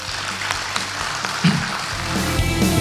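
Applause at the signing of an MOU between an Indonesian education directorate and an internet providers' association during a networking olympiad ceremony, a moderate steady clatter of clapping with low background murmur.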